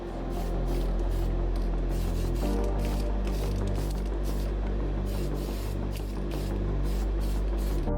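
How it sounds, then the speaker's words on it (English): Clear coat is sprayed from close range onto a restored Corgi Lotus-Climax Formula 1 model car body and base, giving a steady loud hiss with slight pulsing throughout. "Now I lay on that clear coat to the body and base."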